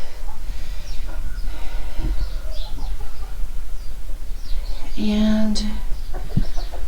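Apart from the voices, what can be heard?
chickens clucking in a chicken coop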